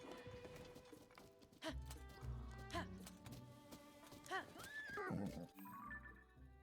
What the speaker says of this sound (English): How did you get the horse to go downhill?